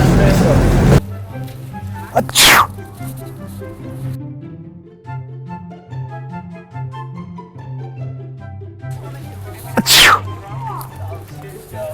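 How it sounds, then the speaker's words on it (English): Loud sneezes burst out twice, near the start and again near the end, performed as a prank on strangers at Venice Beach, with music playing underneath and people talking around them. "we're doing the sneezing prank"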